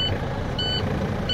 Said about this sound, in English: So that beep, that's our audible sound for our air saying it's empty.